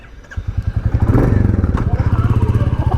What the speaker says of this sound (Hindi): राइड स्टार्ट करते हैं इस classic 350 next gen dark steel black के साथ में।